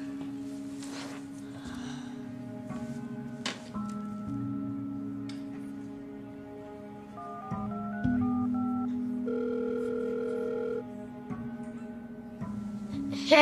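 A telephone being dialed, with a series of short stepped electronic tones followed by steady ringing tones, heard close and clear against a faint hum.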